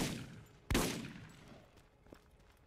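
A single sharp sniper rifle shot in the video game Borderlands cracks out, followed by a decaying echo and a faint click.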